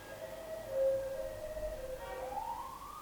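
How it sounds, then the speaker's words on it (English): A faint ambulance siren wails in the distance, its rising and falling tone sweeping slowly over a low background hum. "It's an ambulance."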